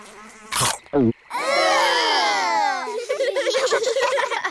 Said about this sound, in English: Frogs eat flies.